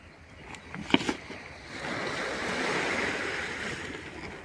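Sea surf along the Konkan coast where an elderly fisherman works a small wooden plank boat, a steady broadband wash of waves swelling and lingering, with a couple of brief knocks near the start and some wind noise.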